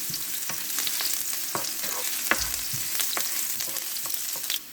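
Ginger and garlic sizzle in hot oil in a pan, a steady crackling fry with occasional scraping stirs of a spoon, close and continuous with no voices.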